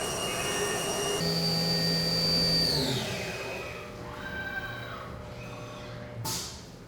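A machine cuts a metal jig with a loud, steady motorized whine whose pitch rises and falls as the tool speeds up and slows, ending with a short burst of harsher noise.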